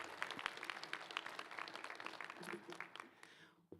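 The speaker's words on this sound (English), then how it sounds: "Students, please applaud yourselves on this happy day." Graduating students and audience at an Ethnic, Gender and Disability Studies commencement applaud in a dense, sustained patter of clapping that fills the hall, thinning out near the end.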